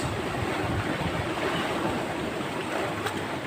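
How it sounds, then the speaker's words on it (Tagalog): River waves and a strong current roar in a constant, heavy wash, with rumbling surf and wind buffeting the microphone. "nalalaki na ng alon eh. Malakas na ng agos."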